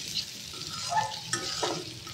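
Potatoes frying with onion, ginger and garlic in a pan, a soft crackling sizzle broken by scraping stirs and a few sharper clicks of the spoon, fairly quiet and with no talk.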